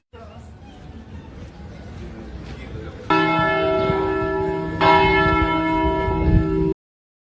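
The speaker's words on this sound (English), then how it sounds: "A little bit of bells, small bells are still left, and sometimes they play them" Small church bells ring out in a bright, layered peal that starts abruptly and then swells, carrying over a low murmur of crowd babble before stopping suddenly.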